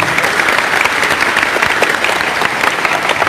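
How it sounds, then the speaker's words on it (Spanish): A large congregation at a church gathering gives loud, sustained applause, a dense, even roar of many hands clapping close by with no break. "Un aplauso para el hermano."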